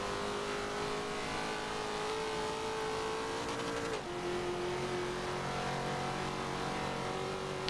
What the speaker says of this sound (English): The acceleration on that NSX is just mind-boggling.